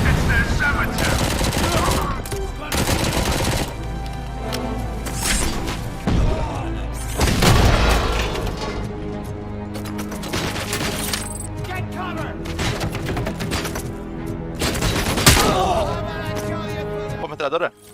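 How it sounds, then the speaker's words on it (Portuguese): Machine gun fire rips through RoboCop: Rogue City played on PC, with loud, rapid bursts broken by heavy thuds and crashing impacts, and a voice speaking over parts of the fighting. "Pô, metralhadora."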